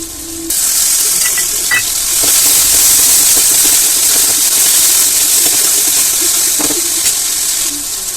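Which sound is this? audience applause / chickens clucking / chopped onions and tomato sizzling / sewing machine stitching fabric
chopped onions and tomato sizzling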